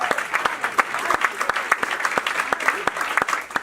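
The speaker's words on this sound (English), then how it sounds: "Y'all can clap that up real quick." An audience at a stand-up comedy show breaks into sustained applause, a dense patter of many hands clapping at once. It is steady and fairly close and lasts several seconds.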